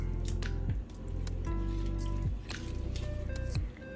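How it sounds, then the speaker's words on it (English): Milk pours into a bowl of cinnamon roll batter in a home kitchen, a close, continuous liquid stream with soft drips and squishy splashes over about four seconds. "We're going to add a little bit of milk"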